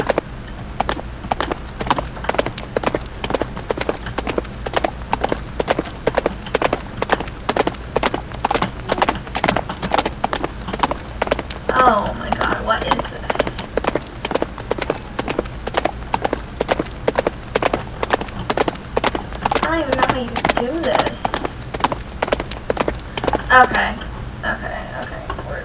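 Rapid, steady clip-clop of a horse's hooves inside a Roblox horse-riding game, loud and close for the whole stretch with a continuous rhythmic beat, while a person talks over it in places.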